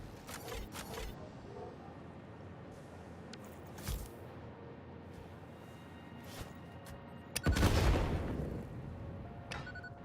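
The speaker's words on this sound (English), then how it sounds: "I hear explosions." Explosions in the video game Satisfactory: muffled distant booms scattered over a low steady background, with one louder, fuller blast standing out late.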